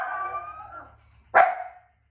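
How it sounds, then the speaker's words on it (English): Guard dog barking at home: a drawn-out howling whine fading away, then after a brief pause one sharp, loud bark that tails off quickly. "We got a guard dog right there."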